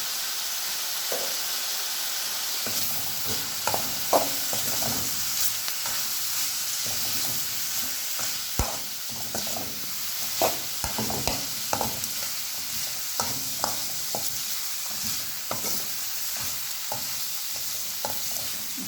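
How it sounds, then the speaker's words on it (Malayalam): Pepper spice mixture for pepper chicken scraped and stirred in a hot pan, a steady sizzling hiss broken by repeated light spoon scrapes and clinks, close up with no talking. "ഇതെല്ലാം ഇതിൽ നന്നായി മിക്സ് ചെയ്തിട്ടുണ്ട്."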